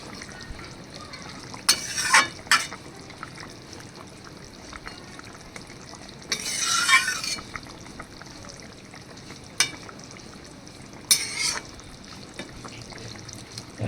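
Pieces of fish go into a simmering curry with taro and potato, giving brief, scattered bursts of sizzling and stirring over a quiet, low bubbling background.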